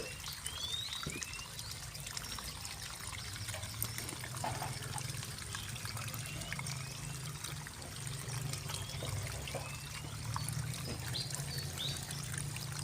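Old water drains and pours steadily from a tank of large tadpoles that have grown front and hind legs. A continuous, moderately quiet wash of flowing water runs throughout with no break.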